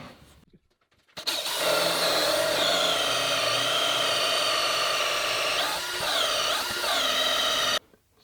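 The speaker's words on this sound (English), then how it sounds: "Let me drill something thicker and see if I can exaggerate the cut." A power drill bores steadily into a thick piece of wood, starting after a brief quiet moment with a loud continuous whine that dips slightly as the bit bites, then cuts off abruptly.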